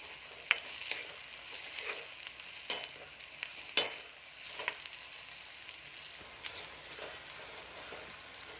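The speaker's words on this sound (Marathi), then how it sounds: "टॅमॅटो परतल्यावर त्यामध्ये मी आता हळद टाकत आहे" Tomatoes sautéing with turmeric in a pan for Maharashtrian pithla, a low steady sizzle broken by occasional scraping stir strokes and light clinks, fairly quiet and without any talk.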